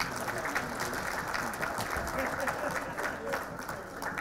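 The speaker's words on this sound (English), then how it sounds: "Let us give another round of applause." Audience applause at a formal gathering in Uganda, a steady moderate clatter of clapping with indistinct crowd voices and murmuring mixed underneath.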